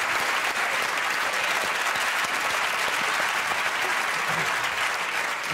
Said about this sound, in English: Give me a round of applause, let's go.